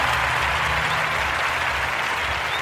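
Steady applause from a crowd fills the whole stretch, an even dense clatter of clapping heard close with no voices.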